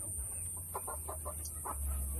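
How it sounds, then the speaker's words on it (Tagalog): Chickens clucking in short bursts at a small egg-laying flock, moderately near, over a steady low hum with no talk. "Ang masisipag natin manok kumain."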